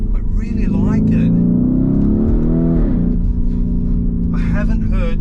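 A 2021 Lamborghini Urus SUV with its twin-turbo engine revs in a deep, loud rumble that climbs and then settles back to a steady growl, while a person talks over the start and end.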